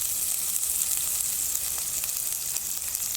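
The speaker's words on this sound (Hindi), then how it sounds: "अब 1 मिनट तक इसको फ्राई करेंगे।" Diced potatoes fry in oil with a spoonful each of garlic paste and ginger paste for guar and potato sabzi, giving a steady, close, loud sizzle that crackles evenly throughout with no talking.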